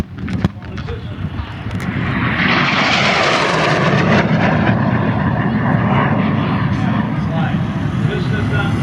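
A MiG jet flying an air show demonstration at EAA 2024 roars in and swells into a loud, sustained, broad rush that holds steady overhead, mixed with faint crowd noise.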